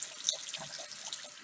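A makeup brush is wetted under running water at a sink, giving a faint, close trickle and splash lasting a brief moment.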